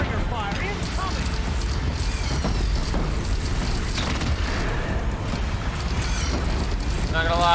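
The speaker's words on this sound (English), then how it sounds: "Deathbringer fire incoming!" Deathbringer gun fire in Horizon Zero Dawn, a dense continuous rumble of cannon blasts and explosions booming over several seconds, with a voice talking over the din.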